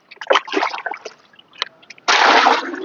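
Splashing and clattering noises come first, then a sudden steady gush of compost-mixed water being poured out of a lotus or water-lily pot loudly for the last second.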